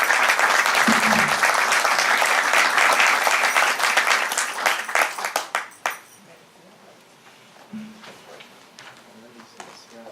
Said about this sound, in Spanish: Lo recibimos con un fuerte aplauso, el licenciado Germán Arteta Vargas.